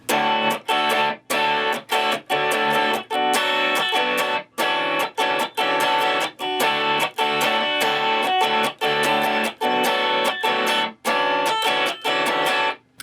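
Guitar playing a song intro: a distorted electric guitar plays rhythmic strummed chords in short choppy bursts with brief gaps, loud and continuous, with no voices.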